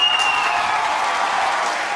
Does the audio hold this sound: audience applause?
yes